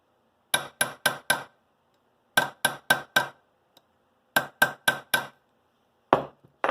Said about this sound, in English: Alright, take a ball peen hammer here.